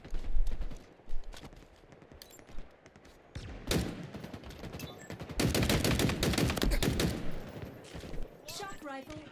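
Rapid gunfire bursts from the Halo video game during a Halo Pro League qualifier match, sharp repeated shots in clusters with a dense sustained volley midway, mixed with game effects and a voice talking over it.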